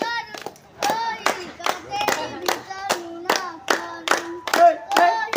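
People clap in a quick, uneven rhythm during dancing at a neighbourhood Laxmi Puja celebration, with sharp close claps mixed with voices and children talking.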